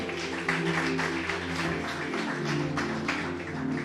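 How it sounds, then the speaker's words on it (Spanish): A church congregation breaks into sustained applause for the word of the Lord, a dense continuous wash of many hands clapping at steady loudness over a low musical hum, with no clear voices on top. "Dale un aplauso a la palabra del Señor."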